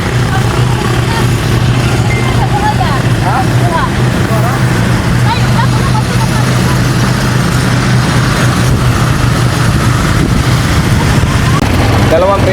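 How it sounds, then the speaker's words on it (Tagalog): An ATV engine runs steadily on an outing in Bohol, Philippines, a loud continuous low drone close by with heavy wind buffeting, while people talk over it. "First time namin na itatry tong ATV."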